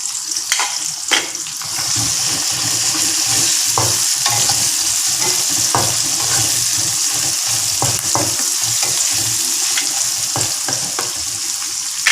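Ginger and garlic frying and being stirred in a pan of onions for a tamarind eggplant curry: a steady close sizzle throughout, broken by scraping stir strokes and spatula taps, no talking.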